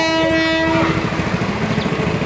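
Near and loud, a train passes a railway crossing whose barrier is broken and stays up: a sustained horn blast fades into steady wheel clatter with rhythmic clickety-clack.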